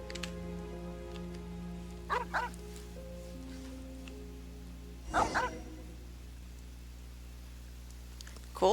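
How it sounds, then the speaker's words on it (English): A dog barks in short bursts inside a video game, heard at a cemetery in the game world, with a few separate clusters of barks and yips over a steady background hum and light rain-like ambience. "Why are you barking at the cemetery?"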